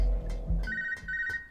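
An incoming codec call ringing in a stealth video game, a few short electronic ring pulses in a quick repeating pattern, fairly close and clear.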